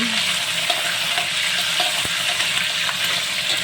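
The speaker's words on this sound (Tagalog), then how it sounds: "nagpiprito ko guys ng bacon" Steady, close sizzle of bacon frying in a pan, a continuous crackling hiss with occasional pops and no talking.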